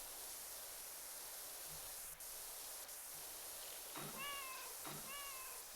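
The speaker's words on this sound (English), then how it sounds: "Oh, I feel so bad when they make noises. Why would you put cats in a shooting gallery?" Two short meows from cats in a shooting gallery in Powerwash Simulator 2 arrive near the end over a low hiss of background noise, following faint soft clicks.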